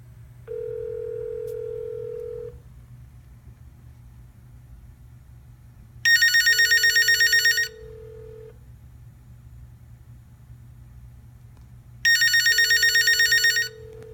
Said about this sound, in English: It's definitely a very whiny ring.